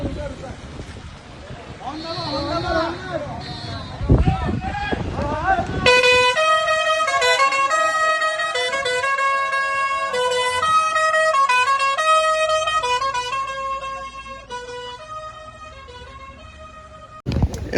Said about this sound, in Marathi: म्युझिक वाला हॉर्न वाजवा